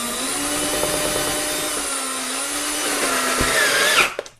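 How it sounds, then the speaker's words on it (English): A power drill drives a screw into a wall anchor with a steady, loud motor whine that holds for about four seconds and then cuts off, with no talk. "then you can drill your screw into there as well"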